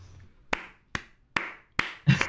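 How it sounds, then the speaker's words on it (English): Hand clapping, five sharp single claps spaced evenly about every half second, close and crisp with short decays, the last overlapping a brief low sound. "I don't know why I'm clapping"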